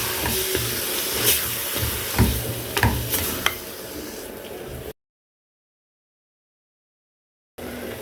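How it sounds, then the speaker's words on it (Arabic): Minced meat and green beans sauté in tomato sauce with a loud, steady sizzle and a few clanks of a stirring utensil, then a silent gap before the sizzle briefly returns. "هنبدأ ننزلها على اللحمة المفرومة. نشوح مع بعض كده"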